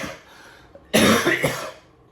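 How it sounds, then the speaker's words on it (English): A single close, loud cough bursts out after a quiet moment, followed by a short rough trailing breath. "coughing is not a normal thing for me"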